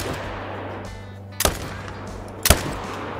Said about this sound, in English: Since they're all standing there like dodos, we'll shoot some more.